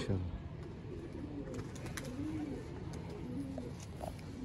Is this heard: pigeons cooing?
yes